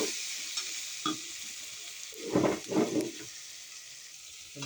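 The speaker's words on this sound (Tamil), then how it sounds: "நல்லா வதக்கலாம்." Biryani masala sautéing in a pressure cooker for cooker dum biryani, with a steady low sizzle and a few louder stirring scrapes and frying bursts near the middle.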